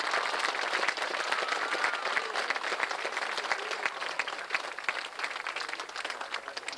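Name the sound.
crowd applause at trophy presentation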